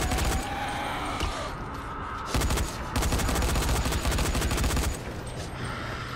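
Gunfire in the video game Dying Light: rapid, dense machine-gun bursts fire almost nonstop, loud and close, with brief pauses between volleys.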